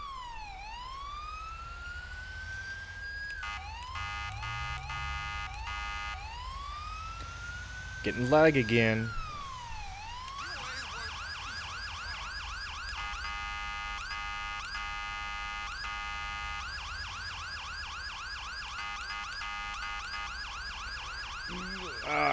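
A GTA V fire engine responds code 3 to a commercial structure fire, its siren cycling through rising wails and then rapid yelp patterns, loud and continuous throughout, with a burst of engine or impact noise midway and someone talking briefly.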